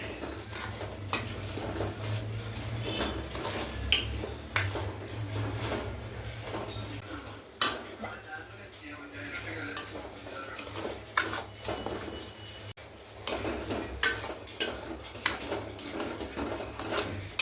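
Semolina (rava) being stirred as it roasts in a pan on a low flame, a repeated scraping and rasping of a utensil against the pan with occasional clinks, close and steady with brief pauses.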